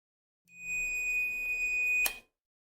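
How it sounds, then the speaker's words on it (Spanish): A multimeter's continuity beep: a steady, high-pitched electronic tone holds for about a second and a half, then cuts off with a brief click. "multímetro emite un pitido de aviso"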